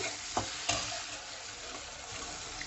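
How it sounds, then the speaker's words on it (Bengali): A spatula stirs frying dal tadka with tomatoes in a pan, making quiet continuous scraping and sizzling with a couple of sharp clinks against the pan early on, close up and without speech. "আমি অনবরত নাড়াচাড়া করব।"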